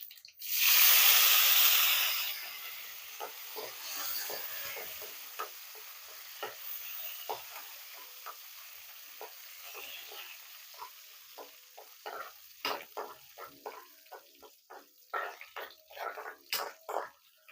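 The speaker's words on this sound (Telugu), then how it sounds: "తాలింపు వేగింది, స్టవ్ కట్టేసుకుందాం." Hot oil sizzles loudly at first, then settles into a faint crackle with scattered pops as cumin, a dried red chilli and curry leaves fry for a tempering.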